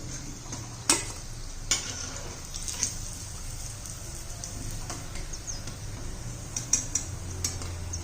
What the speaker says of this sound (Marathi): आता दुसरे राहिले तळून घेऊया